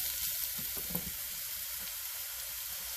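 Food sizzles steadily in a frying pan while a meat sauce is being made, a close, even hiss that runs alone throughout with a few faint stirring clinks.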